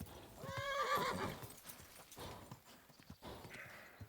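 A horse in the medieval game Kingdom Come: Deliverance 2 gives a loud, close whinny, then its hooves clip-clop in uneven steps as it moves.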